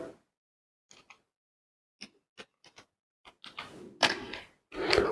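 Keys tapped on a computer keyboard while entering data into accounting software, a few sparse, close clicks after a brief breath at the start, then a quick cluster of louder taps toward the end.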